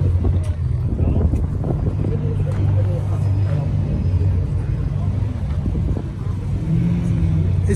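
Low, steady idle rumble of a 1936 Ford car engine at an outdoor gathering, a close continuous throb with wind buffeting the microphone and people chatting over it.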